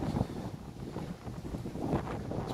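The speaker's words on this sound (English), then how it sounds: "it's very windy" Strong wind buffets the microphone on a hot street near the bus station in La Linea, Spain, producing a continuous low rumbling roar with gusty swells and no talking.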